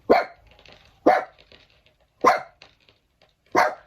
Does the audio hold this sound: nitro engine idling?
no